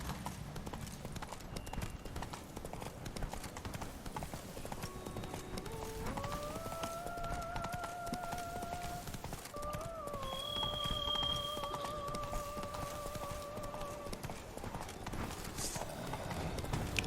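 Roach the horse galloping in The Witcher 3: Wild Hunt, a continuous fast clip-clop of hooves, steady and close, under a faint game music line with brief sustained tones.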